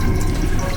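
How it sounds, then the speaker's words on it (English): Warm water runs from the toilet tap on a Sapsan high-speed train in Russia: a short, steady, close-up stream filling a basin, with no talking. "Get water here."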